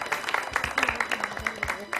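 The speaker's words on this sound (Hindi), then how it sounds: "हाँ इसलिए तो ताली होनी चाहिए।" A studio audience on a morning talk show claps in quick, uneven patters, moderately loud beneath a voice speaking over it.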